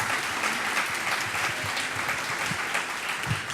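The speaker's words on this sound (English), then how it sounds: "Let's give our panel a round of applause." An audience applauds a panel in a steady, dense wash of clapping that holds level throughout and fills the room.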